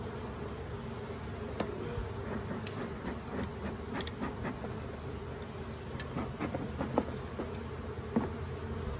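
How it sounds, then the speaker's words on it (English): Honey bees swarm around an opened backyard hive during an inspection with the honey super off, a dense steady buzz with individual bees zipping past close to the listener, fairly faint overall. "I should have known this when the honey super had so many bees in it."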